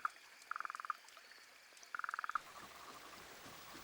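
A frog croaks in rapid pulsed trains in an Australian wetland setting after drought, with two distinct bursts of quick repeated calls, close and clear over a quiet natural background.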